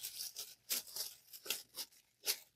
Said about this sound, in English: I'm going to cut this tissue paper down a little bit more